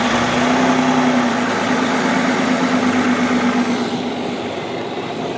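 Audi 2.8 car engine with a fuel flow meter idling steadily close by, a constant low hum with a faint whine that softens slightly toward the end, no voices.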